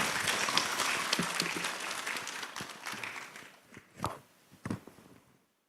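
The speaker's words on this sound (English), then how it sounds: "Please give a round of applause for Dr." Audience applause for a speaker at the ICRITEE 2025 conference, a dense burst of clapping that thins and fades out over a few seconds, ending with a few scattered claps.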